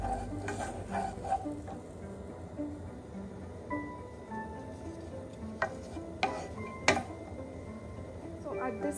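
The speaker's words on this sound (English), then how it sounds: "Fry it in the oil for a few minutes." Ingredients for a South Indian fish curry fry gently in oil in a pan, a soft steady sizzle with occasional stirring clinks and utensil taps, fairly quiet and close.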